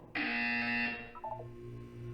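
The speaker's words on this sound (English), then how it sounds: "When you hear the buzzer, look down at the floor." Buzzer in the video game Portal 2, a single loud electronic buzz lasting almost a second, followed by a few short tones and a low hum.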